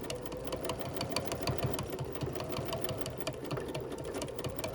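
Bernina sewing machine stitching fabric in a steady, rapid mechanical chatter with a continuous motor hum, close and fairly loud, running without pause and with no talking.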